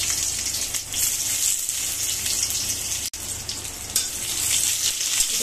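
Chopped onion frying in a pan with curry leaves for upma, a steady close hissing sizzle with crackling spatter that dips briefly once, no talking.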